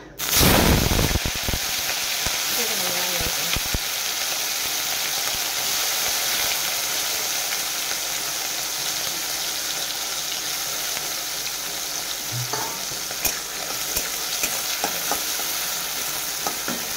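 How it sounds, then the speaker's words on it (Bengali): Prawns fry in smoking-hot mustard oil with a loud, continuous sizzle that surges at the start, then settles into a steady close crackle broken by a few stirring clicks. "আমি মাছগুলো আমার ভাজা করবো"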